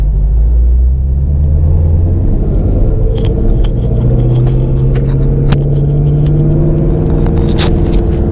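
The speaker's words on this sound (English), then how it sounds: "Rev it up a little bit more." Ford Shelby GT350 engine revving during a ride-along, a loud steady low rumble with rising engine tones throughout, close and continuous with no talk.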